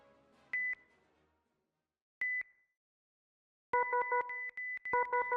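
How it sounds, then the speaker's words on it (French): Defibrillator sound effect: isolated electronic beeps, then a rapid run of pulsing tones at the end, clean and close with no voices. "on entend un son de défibrillateur"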